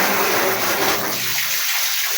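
Tap water runs in a Philippine rural comfort room as buckets are filled, a steady broadband gush that is loud at first and thins out toward the end, with no voices.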